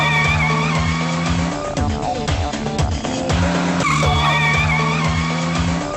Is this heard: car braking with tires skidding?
yes